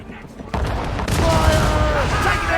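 Naval cannon fire from a sailing ship in Assassin's Creed Rogue, heavy booming blasts rolling into a sustained roar of volleys, with a voice shouting over the battle.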